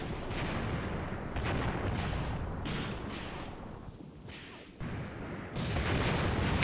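Artillery guns firing rounds in several heavy, rumbling booms that roll and overlap with distant reverberation, loud and unbroken by speech.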